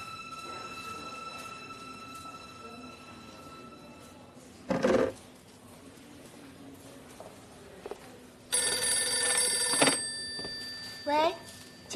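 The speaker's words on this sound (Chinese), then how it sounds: "喂，请等一下，罗医师电话" An old-style telephone bell rings in bursts indoors, a long ringing passage followed by a shorter one, with a voice speaking briefly between the rings.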